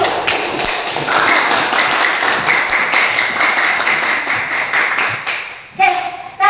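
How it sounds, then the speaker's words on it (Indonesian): A class of students applauds together, a dense steady clatter of many hands clapping for several seconds, then it breaks off and a voice begins speaking near the end. "Yuk kita kasih tepuk tangan dulu."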